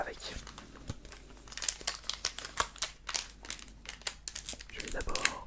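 Foil wrappers of Pokémon booster packs crinkle and tear as they are opened by hand, a close, continuous series of sharp rustling crackles with no talking.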